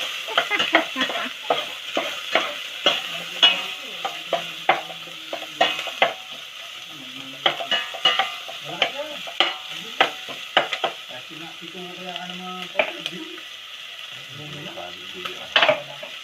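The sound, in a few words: onions frying in a pan for pinapaitan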